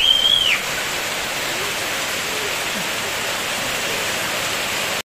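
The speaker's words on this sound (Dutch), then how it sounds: "Gewoon eventjes een beetje hard geregend." Heavy rain pours down in a steady, dense, roaring hiss that stays constant throughout before cutting off abruptly at the very end.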